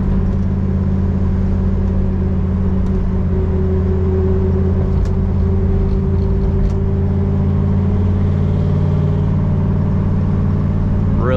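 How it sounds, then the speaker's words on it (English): A deep, steady exhaust rumble from a 1969 Chevrolet Camaro RS/SS cruising at an even pace, continuous and close, with no talking. "Really good sound out of the exhaust."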